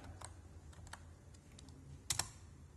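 Quiet keystrokes on a computer keyboard while entering a Raspberry Pi login, a sparse handful of light clicks with a small cluster of sharper taps near the end, no talking.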